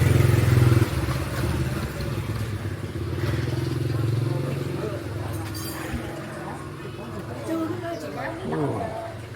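Motorbike engines drone and putter past in a narrow city alley in Vietnam's District One, a steady mid-pitched rumble with clattering street noise and people chattering nearby.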